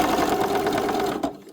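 A sewing machine stitches fabric patches in a steady, fast whirring run that stops abruptly near the end, close and alone.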